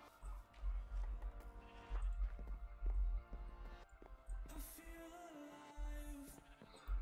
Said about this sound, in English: Now, Princess Little C is a white sheep at the moment.